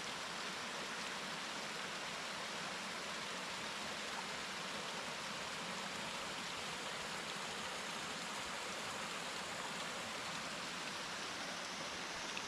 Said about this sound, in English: The water coming down Sourmilk Gill is the outflow from Bleaberry Tarn, about a kilometre up the hill.